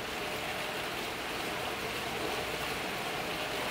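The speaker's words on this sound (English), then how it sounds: "If you guys can hear it, there's like water outside here" Water flowing outdoors just beyond a quiet room, a steady, even rushing wash that holds constant throughout, with no speech.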